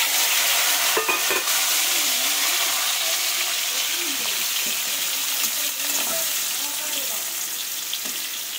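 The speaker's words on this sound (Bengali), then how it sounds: "তেল দিয়ে দিয়েছি বন্ধুরা, দিয়ে কিন্তু আবার এগুলোকে ওল আর আলুটাকে আগে ভেজে নেব।" Elephant foot yam and potato pieces fry in hot oil, giving a steady, loud, close sizzle that runs throughout with occasional stirring knocks and no voices.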